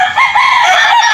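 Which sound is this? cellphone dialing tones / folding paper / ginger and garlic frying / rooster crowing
rooster crowing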